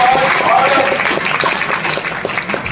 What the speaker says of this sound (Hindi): एक बार उस वैज्ञानिक के लिए तालियों की गड़गड़ाहट